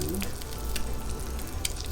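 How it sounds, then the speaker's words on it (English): Steady crackling sizzle of eggs frying in a pan, with occasional sharper pops throughout. "as this frying up"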